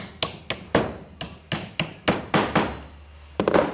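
A hammer drives nails into the bearers and joists of a model house frame with about a dozen sharp, close taps in an uneven rhythm, and no voices.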